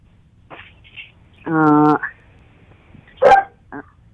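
A puppy in a room gives a few short yips and one longer, whining bark, then a final sharp yelp, all close and fairly loud between quiet gaps.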